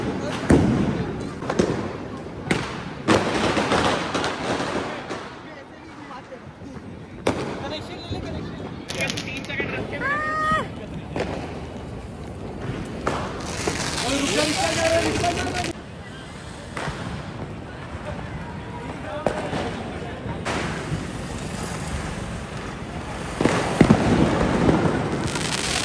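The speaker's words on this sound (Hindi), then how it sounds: "यहाँ पे पटाखे फोड़ रहे हैं" Diwali firecrackers bursting outdoors, with sharp loud bangs scattered irregularly among crackling and whistling, near and far, while people talk and shout over them.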